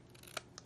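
Scissors snip craft stock paper at an angle, two quick faint cuts close by in a quiet room.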